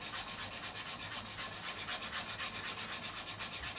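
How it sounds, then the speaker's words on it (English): 400 grit sandpaper rubs back and forth along guitar fret edges in quick, even strokes, a close, steady rhythmic scratching with no voices. "sanding these edges with this 400 grit"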